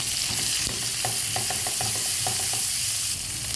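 Garlic and onion fry in oil in a frying pan with a constant loud sizzle, while close stirring strokes scrape and tap in an irregular rhythm.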